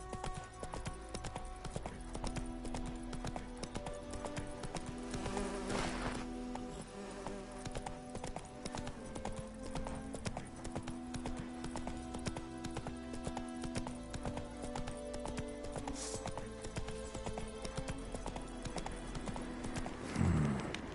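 Rhythmic hoof clip-clop of a galloping horse in the fantasy game The Witcher 3, steady repeated beats over a low ambient music bed, with a faint insect-like buzz and a brief snort near the end.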